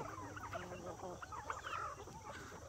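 Homestead chickens cluck close by in a short, busy burst of overlapping calls, with a voice speaking faintly alongside.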